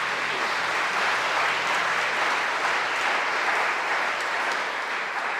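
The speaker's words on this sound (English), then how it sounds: "So give yourselves a round of applause." A church congregation claps together at a Sunday Mass gathering, producing a steady, even wash of applause that holds at a consistent level for several seconds without voices.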